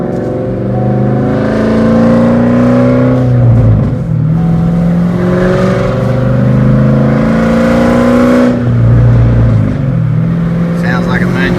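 A Cadillac CTS-V's exhaust growls loud and close, rising in revs and dropping back several times as if shifting gears, a deep throaty drone with brief dips between pulls.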